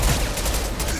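Impact shot gunfire in Mass Effect 2 on Insanity difficulty at a Collector base: a dense, continuous burst of loud weapon fire with heavy low-end rumble, sustained for about a second.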